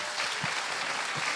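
Audience applause at the Colours of Ostrava festival, a brief burst of dense, even clapping from a crowd, close and steady with a few louder individual claps.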